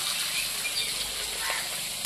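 Onions fry in hot oil in a pan, a dense, steady sizzle and crackle running throughout at close range, ending with a brief sharp knock, with no speech.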